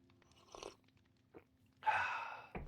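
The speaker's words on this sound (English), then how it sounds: "If you hear slurping, it's tea." A few short slurps of tea, close and quiet, with one longer, louder draw near the end among brief mouth sounds.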